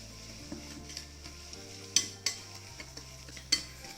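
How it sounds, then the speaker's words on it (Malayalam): A spoon mixes semolina cake batter with coconut milk powder in a bowl, making soft rhythmic scraping strokes with a few sharper clinks, over steady background music. "വീണ്ടും നന്നായിട്ടൊന്ന് മിക്സ് ചെയ്ത് നോക്കാം കേട്ടോ"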